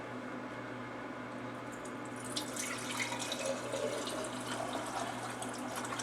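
Warm melted beef tallow pours and trickles through a strainer, a steady liquid running and splashing sound, close and moderately loud, with no talking.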